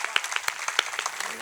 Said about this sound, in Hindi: आपकी तालियां उठाएं